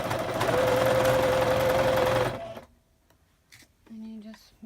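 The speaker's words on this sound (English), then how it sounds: "On these, I like to go over to the 5/8 and sew them, so that way that seam is hidden when they're all together." A sewing machine runs a puff quilt seam at 5/8 inch, a close, rapid whirring stitch for about two seconds that stops abruptly, followed by someone speaking over quiet handling noises.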